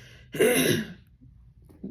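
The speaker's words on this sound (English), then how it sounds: "As I have to clear my throat" A single short, forceful throat clearing sounds close and fairly loud, then trails into faint low murmuring.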